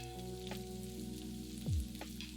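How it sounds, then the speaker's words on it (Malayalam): Garlic and shallots sautéing in oil for a Kerala beans mezhukkupuratti, giving a soft, steady, faint sizzle with a low hum beneath it, and no voices. "ഇതെല്ലാം കൂടി ഇട്ട് ചെറുതായിട്ട് മൂപ്പിക്കുക."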